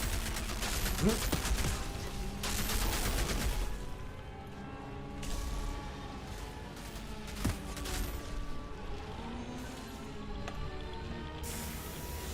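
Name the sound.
turret gunfire in a video game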